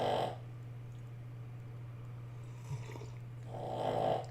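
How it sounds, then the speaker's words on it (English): Shadow snoring: slow breathy snores at the start and end, a low steady drone between them, close and fairly quiet. "How many decibels is Shadow snoring"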